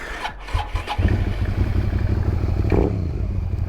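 A 2003 Suzuki SV 650S motorcycle engine fires up and settles into a loud, steady, throbbing close-up idle with a deep rhythmic pulse.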